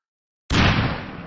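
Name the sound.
explosion sound effect in an animation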